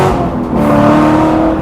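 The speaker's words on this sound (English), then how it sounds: "Different engine notes going on here." An LS3 V8 swapped into a Mazda ND Miata revs up close, its loud, steady engine note rising slightly partway through, with no voices.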